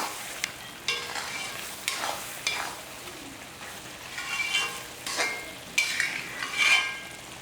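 Bitter gourd thokku frying in oil and stirred with a ladle: a continuous close sizzle broken by repeated scraping strokes at an uneven rhythm, with occasional clinks of the ladle on the pan.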